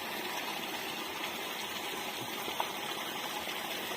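Water gushes steadily from a pipe, drawn from a well with no electric motor running. The flow is a constant, moderately faint rush with no talk over it.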